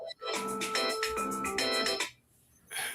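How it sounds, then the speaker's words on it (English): Phone ringtone plays loudly in a steady melodic pattern, cuts off briefly, then starts again, with people nearby. "Answer that phone"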